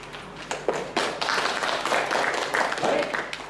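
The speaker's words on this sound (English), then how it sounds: "Big round of applause for Katyayani." Brief round of applause from a small group in a workshop session, light scattered clapping lasting a few seconds, fairly faint, with a voice speaking over the start.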